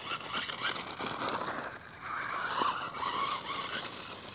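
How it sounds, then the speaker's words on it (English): A carbon fiber AM-X12 RC buggy runs hard and pops a wheelie, giving a steady high-pitched electric whine with tire scrub and gravelly scraping that swells and fades, no voices over it. "Awesome, awesome little buggy. Popping a wheelie there."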